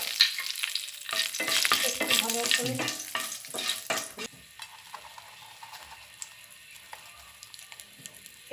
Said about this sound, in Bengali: এর মধ্যে দেবো আমি 2টো শুকনো লঙ্কা আর একটা তেজপাতা আমি ভেঙে দিয়ে দিচ্ছি।